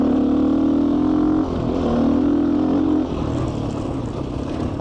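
A GPX FSE250e motorcycle ridden on a road, its engine droning steadily and close, with the pitch easing and dropping midway as the rider changes speed, then settling into a lower, rougher hum.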